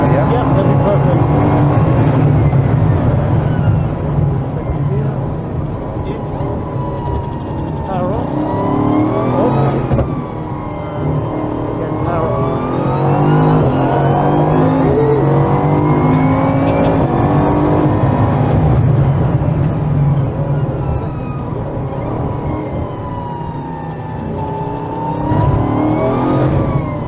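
An intense performance car driving and accelerating, its engine droning loudly and rising in pitch through repeated gear changes, with a voice talking over it throughout.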